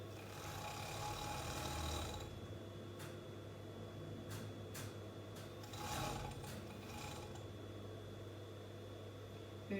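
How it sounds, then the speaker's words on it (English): A sewing machine stitches the side seam of stretch leggings, giving a steady, continuous mechanical hum throughout with a few brief clicks and shifts partway through, and no talk over it. "Now we're going to sew the side seam."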